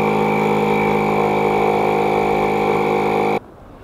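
A small portable air compressor runs steadily while inflating a tire from about 7 to 60 psi, giving a loud, constant mechanical drone with a tonal hum that cuts off abruptly near the end, leaving quiet.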